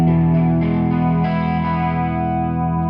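Yamaha Revstar 502T electric guitar on its bridge pickup alone through a Hughes and Kettner amp, a sustained chord ringing with light chorus-like effect and slight grit, steady and close for the whole stretch with no talking.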